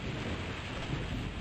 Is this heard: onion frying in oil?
no